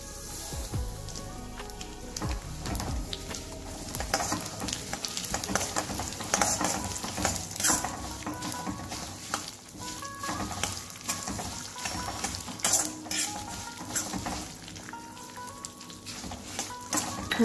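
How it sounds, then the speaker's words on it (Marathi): Sesame seeds hit hot oil in a pan, with a dense, steady sizzle and crackle, while the seeds are stirred and scattered through the fat throughout, no talk over it. "तर आता यात तीळ टाकून घेणार आहे।"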